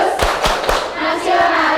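Students clap the rhythmic PPK hand pattern in a hall, a quick run of three sharp claps followed by softer, scattered claps and a faint voice in the background.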